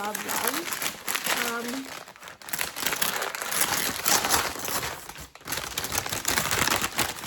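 Crinkly plastic packaging from a book order being unwrapped, a dense continuous crackling and rustling close up, with a voice speaking over part of it.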